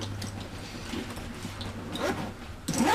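A zipper on a camera bag pulled open, with short scratchy zip bursts and rustling near the end, close and fairly quiet.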